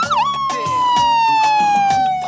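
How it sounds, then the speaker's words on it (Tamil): An ambulance siren wails loud and close in a steady falling tone, broken by repeated thumps and scuffles of nearby activity. "ஆம்புலன்ஸ் வந்துருச்சு."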